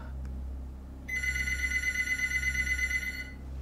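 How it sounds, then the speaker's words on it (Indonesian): Telephone bell sound effect ringing with a steady electronic trill for a few seconds over a low background hum, no talking. "pas dilihat, ternyata itu telepon dari Aji."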